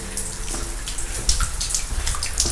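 Water trickles and splashes inside a dark tunnel at night, with scattered drips and small splashes ringing over a hollow, echoing wash at moderate level, and no voices.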